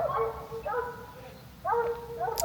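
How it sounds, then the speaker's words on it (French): A few short barks and yips from a pack of hunting hounds, in two brief bursts separated by a pause, fairly close. "ça fait un bon paquet de chiens"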